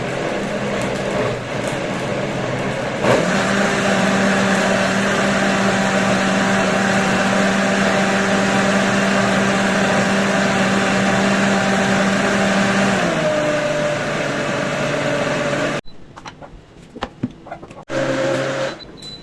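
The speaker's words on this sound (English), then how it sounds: "Right guys, we finished blending." A blender whirs loudly and steadily, churning peach sauce with yellow ghost pepper, its motor holding a constant drone before dropping in pitch and cutting off, followed by a few brief clatters.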